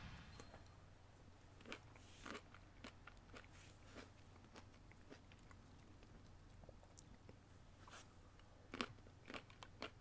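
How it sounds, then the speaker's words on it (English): Close, quiet chewing of fresh blueberries right at the microphone, a string of soft irregular crunches and wet bites scattered across the whole stretch with a low steady hum beneath and no talking. "Chewing into the mic. I'm sorry. I'm eating blueberries."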